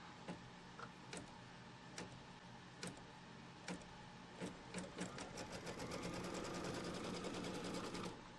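A Kimberbell embroidery sewing machine stitches a quilt block, sparse ticks at first that build into a quick, even run of needle strokes, quiet and close by with nobody talking.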